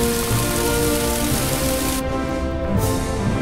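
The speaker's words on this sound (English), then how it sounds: "Oh, I forgot to put the rain right there." Steady, loud rain with a constant hiss from The Movies video game, continuous and even with a brief dip in the high hiss partway through, with no voices.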